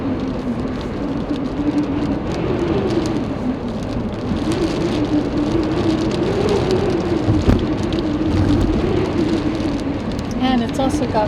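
Steady rain falling through gusty, blustery wind beside open water, a continuous dense hiss with a low rumble from the wind, broken by a few brief louder knocks, while a voice seems to murmur faintly underneath.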